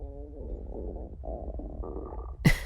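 A hungry stomach rumbles low and continuously for a couple of seconds, close and intimate in an ASMR setting, ending with a brief louder gurgle.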